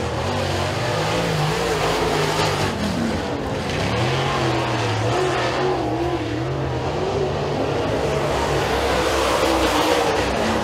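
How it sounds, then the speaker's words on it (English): Super late model race car engine during time trials at Eriez Speedway, a loud continuous roar with the pitch rising and falling as it laps, heard alone. "Other car out there in the 96, that's Michael Smith"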